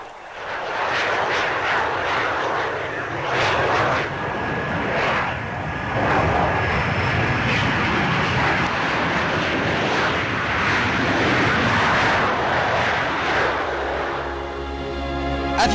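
A supersonic vertical take-off combat jet at the 1963 Paris Air Show gives a loud, sustained roar that swells and fades as it passes, ending in a fluttering rumble.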